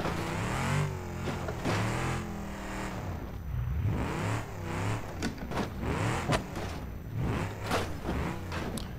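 A car engine in the BeamNG Drive driving game revs in third gear, surging and falling repeatedly in loud, uneven bursts with short pauses between pushes.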